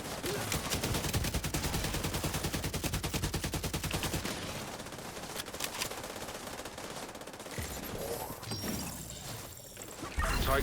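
Rapid automatic grenade launcher fire in a video game, a dense run of rhythmic thumping shots for about four seconds, then a rumbling wash of blasts and effects with faint voices mixed in.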